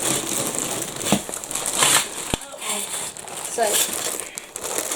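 A packet of 250 58mm badge backs is handled and opened, giving bursts of close plastic crinkling and crumpling with one sharp snap midway, while a person talks nearby.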